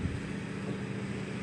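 Wind buffets a microphone outdoors as a steady, dense low rumble with broadband hiss, continuous and fairly loud for the whole stretch, no break in the gusting.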